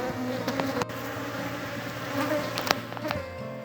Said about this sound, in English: all the bees are buzzing around it